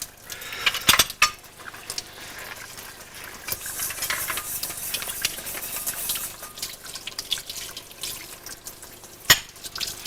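Dishes, pots and pans clatter in a kitchen with running water from a tap, scattered clinks and knocks of cutlery, and a sharper clang near the end, all fairly close with no talk.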